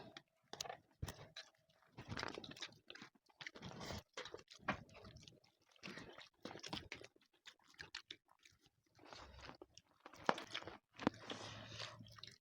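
Children eat homemade noodles in an eating contest, with close, irregular chewing, slurping and soft mouth clicks in quick bursts broken by short pauses, and no talking.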